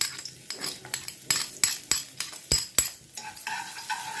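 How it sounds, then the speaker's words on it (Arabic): Crushed garlic cloves drop into hot oil in a pan for Alexandrian-style liver, with clinks and scrapes of a utensil against the pan and a soft sizzle rising underneath toward the end. "هننزل ب5 فصوص توم مهروسين"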